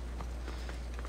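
Horse hooves clip-clop in the video game Assassin's Creed Odyssey: a few soft, evenly spaced hoof thumps sit faintly over a constant low background hum.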